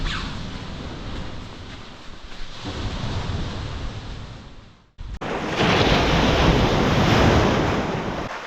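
Small, gentle ocean waves wash onto the sand at Murder Hole Beach in Donegal, a continuous close-up hiss and roar of surf with wind buffeting, briefly cut and then resuming louder.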